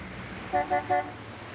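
A big blue sedan pulls up at a gas station and gives three short horn toots in quick succession, standing out over a steady low engine and traffic hum.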